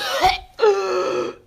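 Two harsh throaty coughs, close and fairly loud, the second longer and rasping, with no talking.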